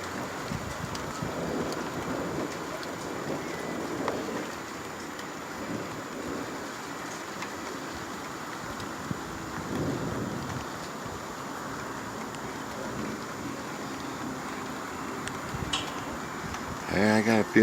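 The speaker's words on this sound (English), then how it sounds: "that's what I'm looking for, is lightning bolts for sure" Steady rain pours throughout a thunderstorm, with low rumbles of thunder rolling underneath, heavy close rain noise and a sharper burst near the end; people talk over it at times.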